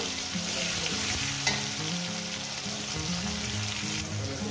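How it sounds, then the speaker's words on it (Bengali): Tomato and green chili fry steadily in hot oil in a pan, a loud continuous sizzle with occasional stirring scrapes, close up and without talk. "আর দিয়ে দেবো এখানে টমেটো, দিয়ে দেবো কাঁচা লঙ্কা। একটু 2 মিনিট ভেজে নেব।"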